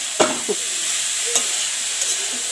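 Cabbage is stirred in a frying pan over gentle sizzling. A few scraping, clattering spoon strokes cut through a soft, steady hiss, and no one speaks.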